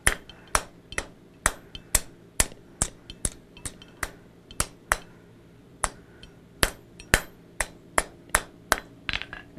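Blacksmith's hammer striking a hot iron bar on an anvil, shaping an indentation: about twenty sharp, ringing blows at a steady, even pace, close and loud over a quiet background.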